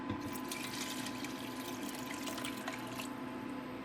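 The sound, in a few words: pouring vegetable broth into a soup pot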